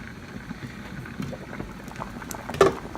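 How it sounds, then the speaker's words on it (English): A pot of rutabaga and pumpkin porridge boils on high heat, with a soft continuous bubbling and occasional louder pops close by. "It is bubbling, bubbling, bubbling."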